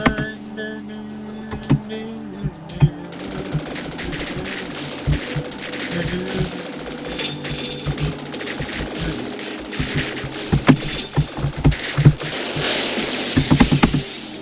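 Rapid laser gun fire in the video game Viricide, repeated sharp bursts in quick succession over a dense bed of game music and effects.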